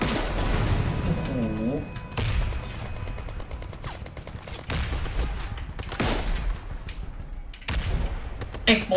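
Rapid bursts of sniper and gunfire in the video game Brothers in Arms 3 crackle repeatedly over nine seconds, with loud shots layered over excited talking throughout.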